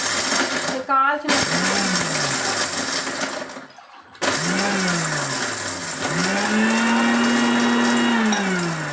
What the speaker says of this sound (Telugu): బాదం పప్పు మిక్సీ చేసుకోవాలి.